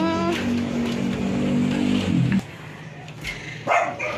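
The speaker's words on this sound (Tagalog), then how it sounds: "Naku, may aso pala." A dog barks a few times nearby, short sharp yelps over a steady background hum, then a quieter stretch.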